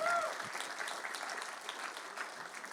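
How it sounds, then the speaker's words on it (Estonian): A room of people applauds a pair of combat-sport fighters at a press conference for the gala The Clash No. 1. The clapping is dense and steady for the whole stretch, with no talking over it. "No teeme aplausi veel meie kolmandale võistluspaarile."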